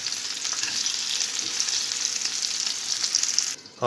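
Onions fry in a pan with a loud, dense, crackling sizzle that holds steady for about three and a half seconds and then cuts off abruptly.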